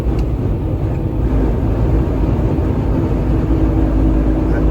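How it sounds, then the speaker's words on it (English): A running truck with an unexplained grinding fault rumbles on steadily and loudly throughout, a dense low mechanical drone with a rough, continuous grind and no pauses. "whatever that grinding noise that y'all hear right now"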